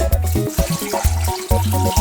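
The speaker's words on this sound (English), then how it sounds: "Then I add little water to it." Water pours steadily into a blender jar holding red cabbage nearby, its gurgling tone bubbling and shifting in pitch as it fills, with no talking.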